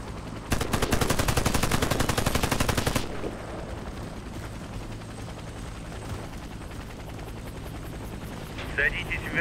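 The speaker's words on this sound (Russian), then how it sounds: "Садитесь в вертолет" Helicopter in the shooter game Warface, loud rotor thumping mixed with rapid machine-gun fire for about three seconds, then a steady low engine drone continues under in-game radio voices.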